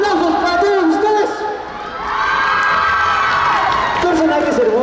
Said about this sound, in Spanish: Ahora sí, aplausos para todos ustedes.